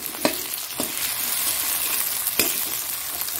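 Two small tomatoes frying in a pan with reddened onions, a constant close sizzle broken by a few sharp clinks of a spoon against the pan.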